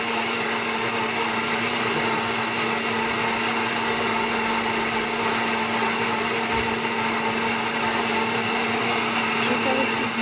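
A blender whirs at full speed blending juice, a loud, steady motor drone with a high whine that holds unbroken for about ten seconds with no change in pitch.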